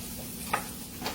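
Onions frying in butter and olive oil for a homemade meatball sauce, a soft steady sizzle with a couple of brief stirring ticks, faint and close.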